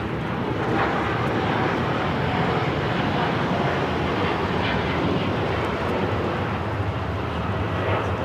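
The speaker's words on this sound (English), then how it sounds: "We have Latam now rolling. Latam 603, the Dreamliner headed out to Santiago." A LATAM Boeing 787 Dreamliner rolls for takeoff at LAX bound for Santiago, its engines a loud, sustained roar with a low rumble, building slightly in waves and heard alone.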